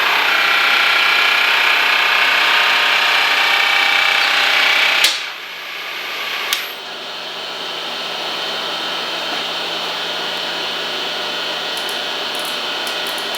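A machine cut on a precision bushing runs as a loud, steady whirring hiss, broken by a sharp click. The machine then keeps running at a lower, quieter level.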